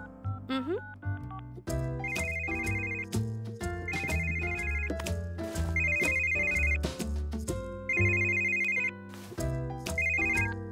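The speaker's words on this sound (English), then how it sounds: "You can call your phone and we'll hear it ring." A cartoon phone ringtone chirps out inside a house in repeated bright melodic bursts over a bouncy musical score, sounding loud and close with no voices.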